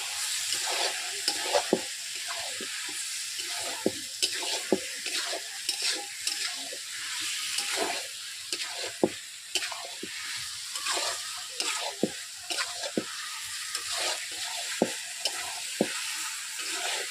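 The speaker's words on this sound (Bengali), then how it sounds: "ঢেকে ঢেকে মাংসগুলোকে কষে নেব।" Chicken pieces and potatoes being stirred and fried in a pot for a village-style Bengali chicken curry, with a continuous sizzle broken by repeated scraping strokes of the spoon, close and moderately quiet.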